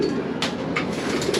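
Pigeons coo softly and repeatedly inside a breeding loft, a low steady murmur of birds with brief faint higher chirps over a constant background.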